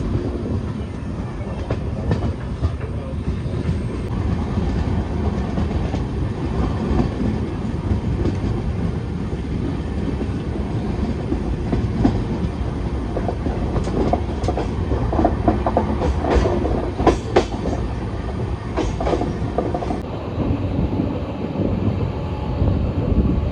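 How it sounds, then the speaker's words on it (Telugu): Tirupati–Solapur summer special express train running on rails, a loud continuous rumble with rhythmic clickety-clack of wheels and some wind buffeting, close and steady throughout. "తిరుపతి సోలాపూర్ ఎక్స్ప్రెస్ ఇది కూడా late running summer special train"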